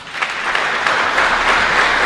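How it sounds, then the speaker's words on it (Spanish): A congregation at a Mass in a chapel in Luque gives loud, sustained applause, a dense continuous wash of many hands clapping close by that swells slightly toward the end. "le damos también un fuerte aplauso"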